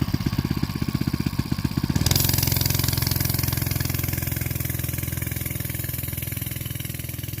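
A Coleman CT100U minibike pulling across grass, its small single-cylinder engine thumping at idle before the throttle opens into a loud, strained, buzzing drone that holds steady close by.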